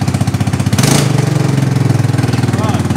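A long-idle Yamaha Grizzly ATV engine runs with a steady, throbbing putter and a brief rev near the start, close by, while a voice talks over it.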